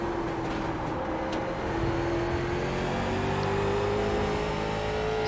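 A late model race car engine in the iRacing simulator at Lanier National Speedway drones steadily and close, its tone slowly climbing as the car accelerates, with no talk over it.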